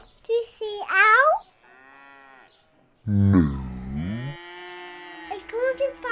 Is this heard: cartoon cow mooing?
yes